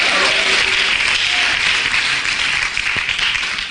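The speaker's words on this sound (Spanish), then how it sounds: "Denle un aplauso fuerte al Señor" A church congregation applauds loudly at a Sunday service, a dense, steady wash of many hands clapping at close range that fills the whole stretch without pause.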